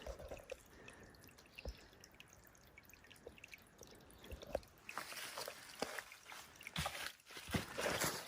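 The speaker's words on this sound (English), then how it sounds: "There's water coming from there." Water trickles and drips from a small freshwater spring in wooded land, faint and close, with scattered droplet plinks and a brief louder splashing stretch near the end.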